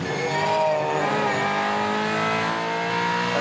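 Supercars race cars at a championship grand final in Adelaide roar past at full revs with a tire squeal as they make contact, a dense continuous engine din without clear voices.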